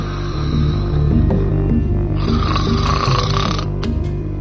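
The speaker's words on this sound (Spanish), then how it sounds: "había una mujer en su cama que roncaba muy fuerte" A woman snoring loudly in bed, heavy rasping breaths repeating in a steady rhythm, close and dominant throughout.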